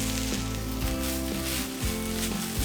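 Tuna chunks sauté in a hot pan with a steady, continuous sizzle, with a few soft scrapes of stirring breaking through.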